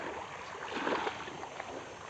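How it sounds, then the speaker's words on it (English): Gentle ocean waves wash onto a white sandy shore at a coastal village near Port Blair in the Andaman Islands, a soft steady surf hiss with a slight swell midway, faint and continuous. "the waves are crawling against the seashore"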